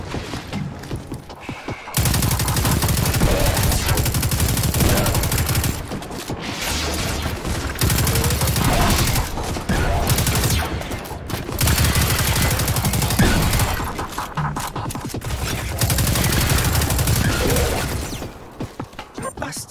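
Sustained automatic gunfire in the video game Destiny 2 comes in long loud bursts of rapid shots, with short pauses between volleys and mechanical clatter.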